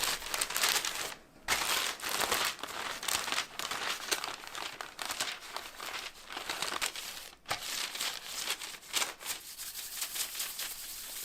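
Corn masa dough for beef gorditas being rolled flat under a sheet of parchment paper, giving continuous close crinkling and rustling of the paper with steady scraping texture and a couple of short pauses.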